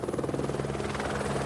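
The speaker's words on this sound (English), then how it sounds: "When a helicopter arrives at base camp," A helicopter arrives at Everest base camp, its rotor beating in a loud, steady, rapid thump over a droning engine, with no voices.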